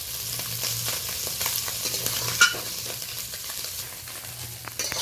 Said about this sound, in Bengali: মৌরালা মাছগুলো হালকাভাবে আমি টকের জন্য ভেজে নিয়েছি।